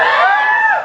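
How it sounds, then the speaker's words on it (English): Audience of second-year college students cheering together at a campus event, a brief, loud burst of crowd shouting and whooping that fades out. "Second years in the house, give me a cheer."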